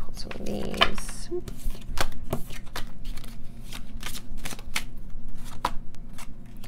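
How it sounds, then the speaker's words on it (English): Oracle cards shuffled by hand, a string of soft flicking and snapping clicks, with a voice speaking briefly at the start over a low room hum. "I'm going to pull some oracle cards too to go along with this"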